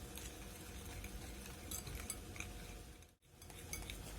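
A spoon scrapes and clinks around a bowl while Milo cake mixture is stirred, a soft steady rhythmic stirring close by with a brief pause near the end.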